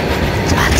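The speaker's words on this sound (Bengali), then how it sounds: "এই ট্রেন দুরন্ত এক্সপ্রেস বেরিয়ে যাচ্ছে।" A Duronto Express train passing through a junction, a steady loud rumble of wheels and rail noise running throughout at close range, with a faint voice underneath.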